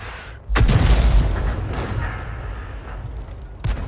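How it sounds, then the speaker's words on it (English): Distant artillery firing in the World of Tanks video game: one heavy boom with a rolling tail, then a second, sharper report near the end. "we can certainly hear the enemy Arty firing in this general direction"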